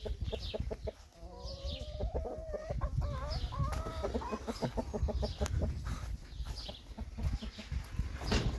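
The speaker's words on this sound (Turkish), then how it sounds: "Şöyle burada da denizli horozumuz var." Chickens clucking in rapid bursts close by, with a Denizli rooster's drawn-out crowing call rising in the middle over noisy farmyard background.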